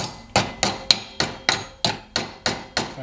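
Metal body panel beaten into shape with a hammer, about nine sharp ringing blows at a steady, even rhythm, close and alone.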